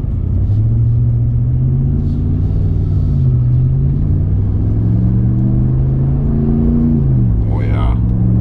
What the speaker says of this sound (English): that's a very, very nice sounding exhaust system